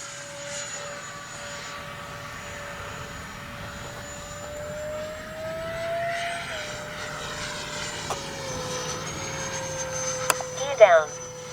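A Freewing 80mm MiG-21 RC jet spools up and rolls into its takeoff, a steady ducted-fan whine that slowly rises in pitch at moderate distance, with a sharp click and a short burst of handling noise near the end.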